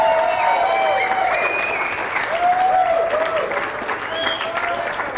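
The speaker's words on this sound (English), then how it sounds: "So please give them a big round of applause" Applause for radio station staff fills an IDL Ballroom in Tulsa, a steady wash of clapping and crowd noise with whistles and cheers cutting through, sustained and even throughout.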